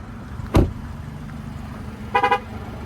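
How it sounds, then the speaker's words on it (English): A running 2023 Chevrolet Colorado ZR2 beeps with the key out: a sharp thump or door sound, then a quick triple chirp of warning tones over a low idle hum. "It's going to beep at me because it's running and the key is out."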